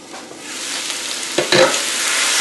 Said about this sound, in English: We will cook the beef strip first.